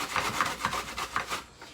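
A Granny Smith apple's skin is rubbed against a grater in a steady back-and-forth rhythm of raspy scrapes, about six strokes, close and fairly soft.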